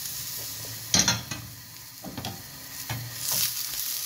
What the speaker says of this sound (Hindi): शिमला मिर्च फ्राई होती है थोड़ी सी प्याज